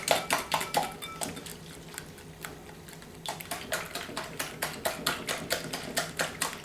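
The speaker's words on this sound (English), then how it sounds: "So I'm going to beat them until they're" Four eggs whisked by hand in a bowl for egg custard, a steady run of quick clicking taps that pauses briefly partway through, then resumes in an even rhythm.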